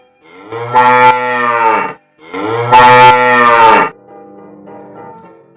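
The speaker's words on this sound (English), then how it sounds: "Cow." A cow moos twice, loud and close, each a long low drawn-out call of about a second and a half, followed by a fainter trailing sound.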